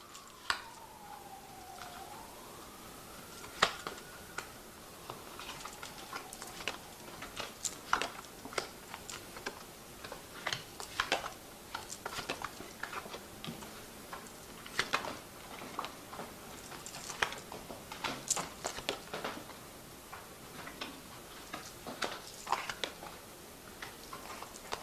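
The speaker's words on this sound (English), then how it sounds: "I'll just cut that deck." Law of Attraction Tarot deck cut and shuffled by hand, a run of soft, rapid card riffles and taps close by, irregular and fairly faint with no talking.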